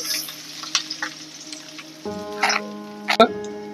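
Ginger and garlic pieces fry in hot oil with a light, hissy sizzle, punctuated by a few spoon clinks and stirring knocks close by, along with a brief humming tone.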